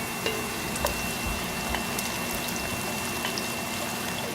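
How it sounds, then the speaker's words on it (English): Garlic and onion browning in a pan give off a steady, quiet sizzle, even and continuous with small crackles, with no one talking. "While we're waiting for the garlic to brown and the onion to finish browning"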